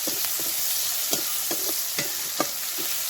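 Garlic sizzling in hot oil in a pan on a home stove, a steady hiss broken by several brief stirring clicks and scrapes, close and moderately loud, with no talking.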